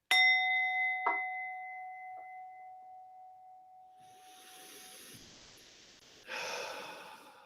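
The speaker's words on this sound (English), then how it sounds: "Ring the bell for clarity again." A meditation bell rings once with a clear, bright strike and a long fading resonant tone, followed by two lighter taps that add to the decay, then soft breathing and rustling close by.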